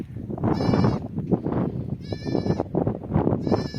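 Two goat kids bleat repeatedly on a pasture, several quavering calls close by at steady intervals, mixed with rustling and outdoor noise, with a voice faint in the background.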